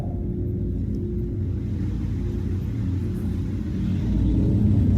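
A spaceship lifts off in Star Citizen with a deep, steady engine rumble that swells louder near the end, heard alone with no talk.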